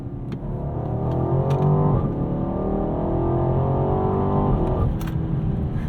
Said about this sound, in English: that's the only time you're going to get any sort of a jerky gear shift out of this ALPINA is when you're in Sport Plus mode